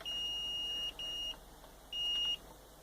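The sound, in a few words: multimeter continuity beep testing Roland SH-101 power switch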